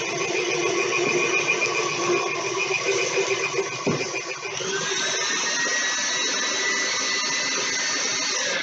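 An electric mixer whirs through confectioner's sugar, a continuous loud motor whine that dips briefly, then rises to a higher steady pitch.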